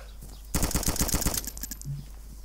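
An M4 rifle fires a rapid automatic burst in the video game DayZ Standalone, about a dozen sharp, loud shots in quick succession, followed by a few fainter trailing shots.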